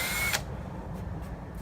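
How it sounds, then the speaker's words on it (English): A power drill bores into the rocker panel of a Jeep YJ in a short, loud, high burst that stops abruptly, followed by quiet low rumble and a few faint clicks. "I'm going to drill in there,"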